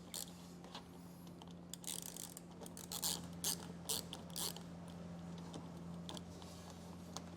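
A ratchet works a T15 Torx screw loose under a 2025 Chevrolet during a trailer hitch installation, giving soft, irregular clicking strokes over a steady low hum.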